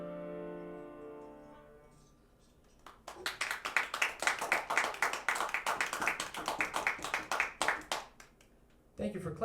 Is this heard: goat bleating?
no